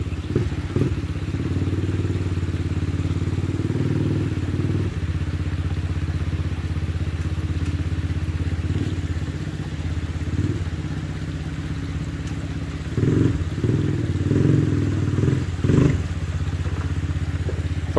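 A 2021 Honda Rancher ATV engine idles and revs steadily nearby while climbing a tall creek ledge, with a sustained low rumble, occasional throttle surges and clattering thumps from the tires on rock.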